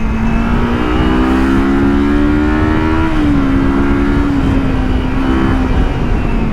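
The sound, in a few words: Kawasaki Versys X 300 motorcycle engine revving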